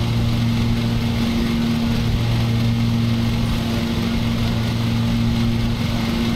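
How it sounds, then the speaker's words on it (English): Lawn mower engine drones steadily at a constant pitch in the video game Lawn Mowing Simulator, loud, close and unbroken for over six seconds with no talk. "God, I love mowing grass."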